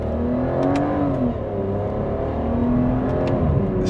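Aston Martin Vanquish engine pulls hard under acceleration from inside the car, a loud continuous rising drone with a climbing tone and no talk over it.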